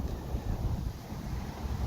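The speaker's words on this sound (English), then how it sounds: "of course it's windy" Steady outdoor wind buffeting a microphone at a model flying field, a continuous low rumble filling the whole stretch with no voices.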